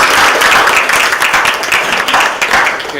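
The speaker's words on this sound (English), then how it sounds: "let's give them a big round of applause" A crowd applauding steadily, dense clapping close by that holds strong throughout and tapers slightly at the end.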